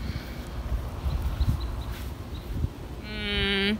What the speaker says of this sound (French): C'est une abeille.